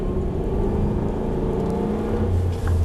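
An Aston Martin Vantage V8 accelerates on a race track at full throttle, its engine a loud, steady drone that climbs in pitch near the end.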